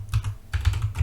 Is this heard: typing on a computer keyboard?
yes